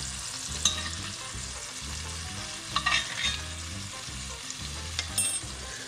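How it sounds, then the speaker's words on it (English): Steak sears in a pan with butter and olive oil, giving a steady, close sizzle and hiss throughout. A low rhythmic thumping runs beneath it, with a few brief crackling spikes. "It's going to seal one side of it, give it that kind of brown appearance to it."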